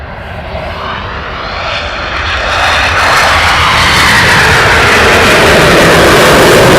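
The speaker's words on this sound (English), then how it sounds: "dual takeoff, lovely" Two RAF Typhoon jets take off together at RAF Coningsby, a loud, broad jet roar that swells over several seconds and stays powerful, with no talk over it.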